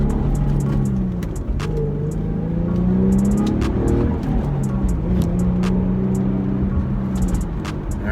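An Infiniti G37S convertible coupe with a manual gearbox accelerates through the gears, its engine note climbing and dropping with each shift. The sound stays close and steady for about eight seconds, with no talk.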